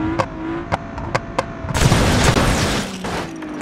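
A Porsche in the BeamNG.Drive driving game: a few sharp ticking clicks, then a heavy booming crash as the car lands after a jump, followed by a fading rumble.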